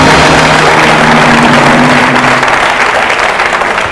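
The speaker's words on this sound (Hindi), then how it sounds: "तालियां। सही जवाब।" Audience clapping for a correct answer on a quiz show, loud and dense applause that opens over a low steady hum and gradually thins out toward the end.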